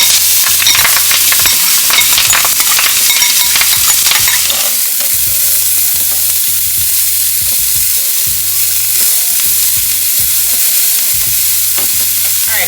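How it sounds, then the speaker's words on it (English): Seasonings sautéing in oil in a pot for ackee and saltfish: a loud, steady sizzle with repeated stirring scrapes, busier and denser at first, then settling into a hissing fry with intermittent clinks. "We're going to saute these until they're nice and fragrant"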